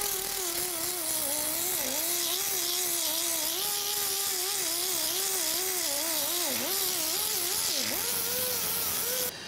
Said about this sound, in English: So I'm going to go ahead and run this with a little disc.